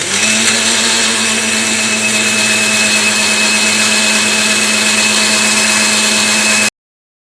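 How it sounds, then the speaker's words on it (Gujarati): Kitchen mixer blender crushing chikoo (sapodilla) with ice, a loud steady whirring motor grind running continuously for nearly seven seconds before cutting off abruptly. "આપણે આ જ રીતે બધા ચીકુને ક્રશ કરી લેવાના છે મિક્સરમાં"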